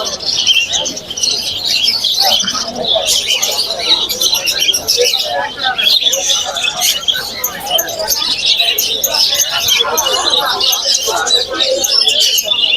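Lovebirds at a busy outdoor bird market in Mirpur, Dhaka, chirp in dense, high, overlapping twitters that continue throughout, close and loud, with occasional coos from other birds and people talking nearby.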